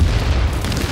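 A grenade explosion in the video game The Division, a short deep booming blast with a heavy low rumble that fills the whole brief moment.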